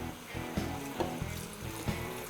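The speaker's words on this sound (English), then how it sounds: "And then 1 cup of water." A cup of water splashes into a pot of zucchini and mushrooms in short, uneven gushes with a few soft clinks, close by and without speech.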